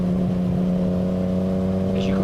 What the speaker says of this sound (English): that car's just coming down now, where that little Fiesta is